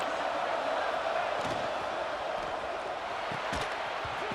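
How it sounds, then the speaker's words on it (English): Steady roar of a football stadium crowd during an early-game Notre Dame matchup, a dense wash of noise with no break for the full length, with a few brief thumps and shouts rising out of it. "Listen to the crowd energy here in the early going."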